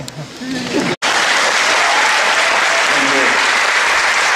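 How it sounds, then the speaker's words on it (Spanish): A large audience bursts into loud, sustained applause at a political talk, the dense clapping filling the room after a brief gap and continuing steadily. "No aplaudan eso"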